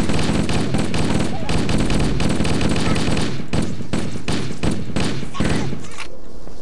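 Dense, loud assault rifle fire in Halo: Combat Evolved on PC, sustained rattling bursts packed with explosive thumps and game noise, nearly unbroken across the whole stretch.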